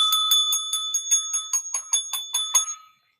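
A bright bell rings in quick repeated strikes, about a dozen evenly spaced dings that fade out after a couple of seconds, heard alone and close.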